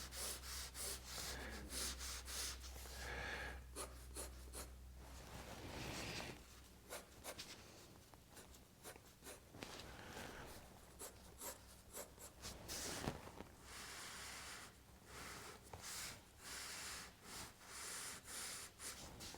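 Pencil scratches across paper while a cuboid is sketched in a drawing exercise, with close, dry strokes of varying length, pauses between lines, and occasional breathing.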